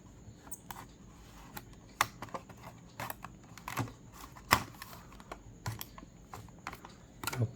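A '17 Audi RS 6 Avant Hot Wheels card package being opened by hand: soft, irregular clicks, crinkles and plastic snaps come up close and quiet, with no talking.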